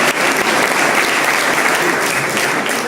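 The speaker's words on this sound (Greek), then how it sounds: "αξίζει ένα μεγάλο χειροκρότημα για τα παιδιά αυτά" Applause at a youth sports club's pita-cutting event, honoring the youth team, dense sustained clapping from a crowd filling the room, steady and loud throughout.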